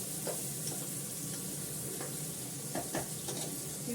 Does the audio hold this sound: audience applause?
no